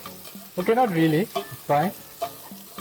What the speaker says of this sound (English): The sound of sizzling onions just does something.